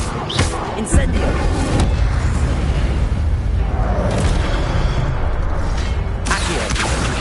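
In Hogwarts Legacy combat, the Incendio fire spell goes off as loud whooshing blasts and booming bursts in dense, continuous battle noise, with voices mixed in.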